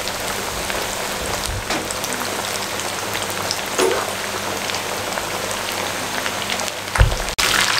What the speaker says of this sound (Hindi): आहिस्ता आपने इनको फ्राई करना है